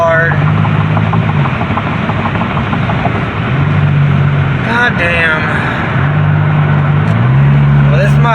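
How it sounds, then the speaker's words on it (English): A car with a slipping transmission cruises down a highway, its steady engine and road drone filling the cabin throughout, with brief shifts in engine pitch and a few faint background noises. "And I'm just cruising down the highway."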